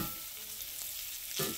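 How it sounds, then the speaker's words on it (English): A breakfast with sausage fries in a pan, a soft steady sizzle and hiss with light stirring scrapes, ending in a brief louder scrape, close and quiet, no voices. "So we'll stir this for a couple minutes."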